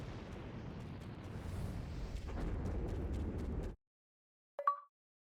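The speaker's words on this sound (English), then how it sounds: "Moth lady uses explosion." An explosion attack in the PS2 game Shinobi gives a sustained rumbling blast for several seconds, cut off abruptly, then a short sharp pop after a brief silence.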